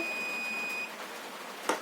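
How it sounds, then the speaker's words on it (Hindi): A multimeter's continuity beep sounds while it tests a shorted capacitor in an Acer 18.5-inch LED monitor with a no-power fault. It is a steady tone held for almost a second and then cut off, with a faint click near the end. "ये देखिए दूसरा वाला भी बीपिंग कर रहा है"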